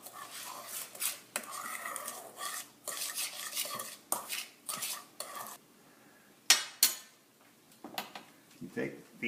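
Apple pie filling being mixed in a bowl: repeated close scraping and stirring strokes against the bowl in a steady rhythm, a sharp clatter of a utensil near the end, with a voice talking over parts.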